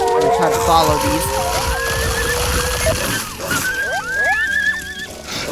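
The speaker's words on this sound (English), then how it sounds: "What you're hearing right now is a bunch of coyotes and wolves fighting each other." Coyotes and wolves fighting in the survival video game Survive the Wild: a chaotic run of yelps, howls and whining cries, loud and close, rising into high sliding calls near the end, with a steady game ambience underneath.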